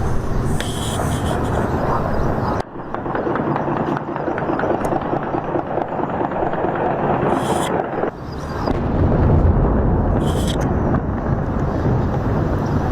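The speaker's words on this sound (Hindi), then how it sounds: "धमाके की आवाज सुनिए" A loud, sustained rumbling roar of wartime blasts and heavy broadband noise, with abrupt shifts in intensity and brief bursts of high hiss.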